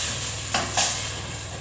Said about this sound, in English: I'm just going to add a little bit of passata. That's going to start cooking.